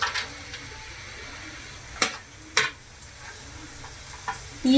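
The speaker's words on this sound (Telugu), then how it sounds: "బాగా వేడెక్కింది, చెక్క లవంగా వేసుకున్నాం." Cinnamon and cloves sizzle in hot oil heated for a chicken fry, a soft steady crackle broken by a few sharp spattering pops and spoon scrapes against the pan, close and without talk.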